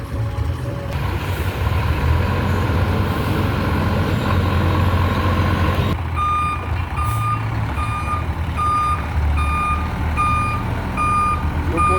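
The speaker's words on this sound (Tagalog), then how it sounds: "Ayan, umabanti na ho yung truck." A large truck at a trucking yard rumbles with its engine running loud and close, then a steady series of evenly spaced reversing beeps sounds over the engine noise, with no talk.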